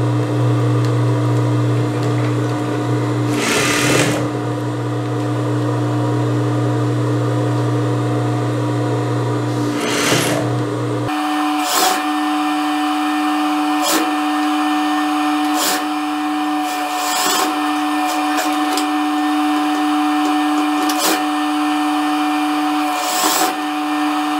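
A sewing machine stitches the neckline of a blouse with an American armhole cut, running in steady continuous bursts with brief pauses and restarts, close and fairly loud with a constant mechanical hum and no talking.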